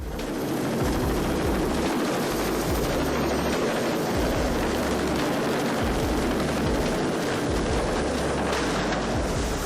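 A helicopter's steady thudding rotor chop and engine roar fill the clip, loud and continuous for about ten seconds, with no speech.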